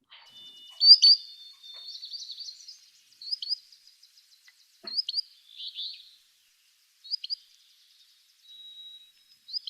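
Solitary sandpiper calls ring out as sharp, high peeps in short separate bursts, fairly clear against a quiet background, repeated about six times over several seconds.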